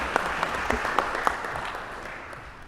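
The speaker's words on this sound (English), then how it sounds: "Now we can clap." Board of trustees members and attendees burst into short applause after a motion carries in a meeting room, a few sharp claps at the start settling into softer clapping that fades out.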